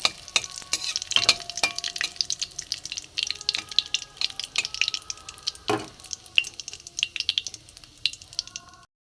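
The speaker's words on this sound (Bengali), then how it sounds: "একদম গ্যাস কমিয়ে ফোড়নটা আমি একটু ভেজে নেব।" Cumin seeds, a dry red chili and a bay leaf tempering in hot oil over a low gas flame for a vegetarian chana dal, with crackling sizzle broken by repeated sharp clinks and scrapes of a spoon stirring the pan.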